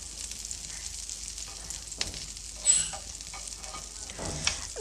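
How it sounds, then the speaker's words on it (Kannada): Butter melting on a hot dosa pan gives a soft, steady sizzle, with a couple of faint utensil clicks and a brief louder crackle partway through. No one speaks. "ನಾನಿವಾಗ ಒಂದು ಅಂಚನ್ನು ಕಾಯ್ದಕ್ಕೆ ಇಟ್ಕೊಂಡಿದ್ದೀನಿ ನಾನಿಲ್ಲಿ ದೋಸೆ ಅಂಚನ್ನು ತೊಗೊಂಡಿದ್ದೀನಿ ಅದಕ್ಕೆ ನಾನು ಒನ್ ಟೇಬಲ್ ಸ್ಪೂನಷ್ಟು ಇಲ್ಲಿ ಬೆಣ್ಣೆನ ಹಾಕ್ಕೊಂಡಿದ್ದೀನಿ"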